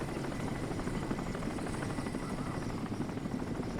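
Helicopter in the video game Crysis, a steady rotor thrum and engine drone that holds at a constant level throughout, fairly close and alone with no talk.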